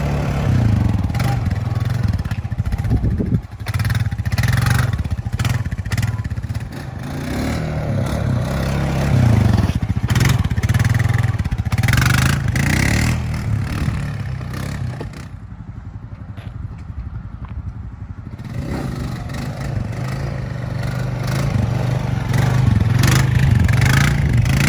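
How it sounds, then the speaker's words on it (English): A 2020 Honda Rancher ATV engine runs close and loud just after an oil change, idling and revving in rough surges, with a quieter stretch in the middle before the engine note rises again. "We can start it up and take it for a wheelie."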